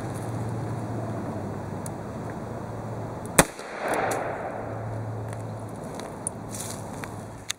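A single sharp, loud shot from a Federal .357 Magnum 158-grain jacketed hollow point, fired from a 4-inch barrel into a clear ballistics gel block, cracks out once midway and is followed by a brief rumbling decay, with no talking.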